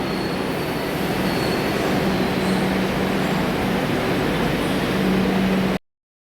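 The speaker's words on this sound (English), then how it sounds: "So this is the metro train towards Jai Hind." A yellow line metro train toward Jai Hind runs steadily with a loud, even rumble and faint wheel squeal, no voices, then cuts off abruptly.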